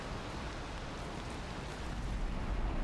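Steady rainfall from a Valheim game world, a dense, even hiss of falling drops that holds constant and fills the whole stretch with no pauses.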